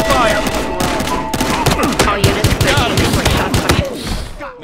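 Dense gunfire in Battlefield Hardline on PS5, a fusillade of rapid automatic bursts and single shots cracking loudly over a busy firefight, with voices shouting faintly underneath.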